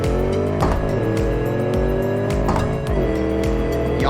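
A big block V8 engine in a car in BeamNG.drive roars steadily and loudly under throttle, with rising revs, gear shifts and brief tire squeals, the engine note alone throughout.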